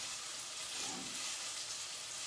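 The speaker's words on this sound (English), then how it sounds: "So I can hear my chicken sizzling and getting happy." Steady, close sizzling of chicken frying in hot oil, a continuous bright crackle with a slight swell partway through.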